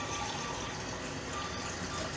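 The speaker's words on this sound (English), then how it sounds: "And now we just want to add water." Water pours steadily into a pot holding chicken pieces for poaching, a continuous soft splashing rush at moderate distance, even in level throughout.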